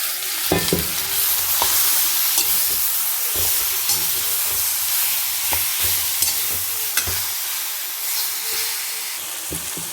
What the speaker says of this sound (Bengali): এই সেদ্ধ করা কচুটা আমি দিয়ে দিলাম